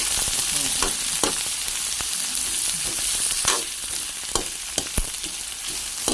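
Sponge gourd (patola) drops into a hot pan for miswa soup, giving a steady close sizzle of frying broken by sharp clicks and stirring knocks from utensils against the pan.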